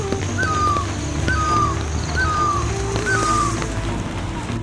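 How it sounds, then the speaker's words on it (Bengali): A strange bird calling from far away in the Darjeeling hills during an evening of rain, four evenly spaced, clear, descending calls over a steady background of rain and low hum. "দূরে কোথাও থেকে এক পাখির অদ্ভুত আওয়াজ ভেসে আসছে।"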